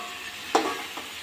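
Potato pieces frying in oil with salt and turmeric give a soft, steady sizzle, broken by a brief stirring scrape of a spoon against the pan.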